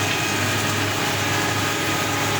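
A wood moulder machine runs steadily with a constant loud mechanical whir and hum, unbroken and close, with no talk over it.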